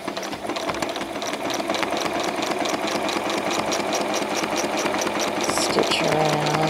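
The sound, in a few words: sewing machine stitching free motion quilting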